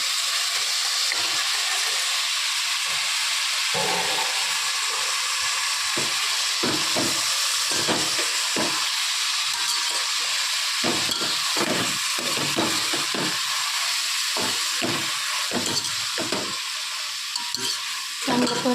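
Onion and tomato sizzle and fry in a pan for chicken biryani, a steady close hiss with irregular stirring scrapes and crackles throughout, no voices.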